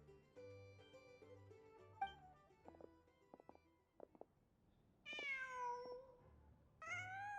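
A cat in the video game Genshin Impact gives two clear, drawn-out meows late in the passage, after a stretch of soft game music and scattered small effects.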